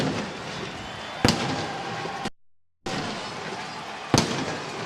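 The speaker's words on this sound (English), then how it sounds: "Cannon fire in the end zone here at Raymond James Stadium, a good thing for the Tampa faithful." Cannon fire celebrates a Buccaneers win at Raymond James Stadium, with two sharp booms cutting through a dense, roaring stadium crowd, separated by a brief dropout.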